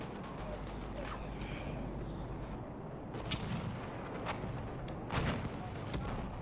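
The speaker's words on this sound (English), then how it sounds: "CH Brutus is using his AT rocket guns from the elevated position over Delta and takes out SES's tank" Rocket launcher fire and explosions in the video game Battlefield 1, with an AT rocket gun fired from an elevated position at a tank: a steady din of distant booms and gunfire, with sharper blasts around the middle and near the end.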